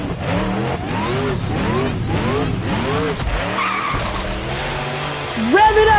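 A vehicle engine in Midnight Suns, the Spirit of Vengeance ride, revs repeatedly in rising and falling surges with tire-squeal-like whines, loud and continuous, while voices talk over it.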